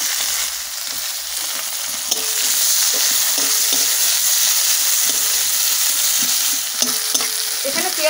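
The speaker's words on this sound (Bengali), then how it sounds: "এবার দিয়ে দিচ্ছি কুচি করে রাখা পেঁয়াজ।" Chopped onion drops into hot oil already holding panch phoron, crushed garlic and crushed green chili, giving a loud, steady, close sizzle with a few faint utensil clicks.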